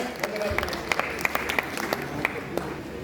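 An audience at a poetry gathering (kavi sammelan) at Bundelkhand University in Jhansi breaks into sustained applause, dense clapping with sharper individual claps standing out, continuing for a few seconds.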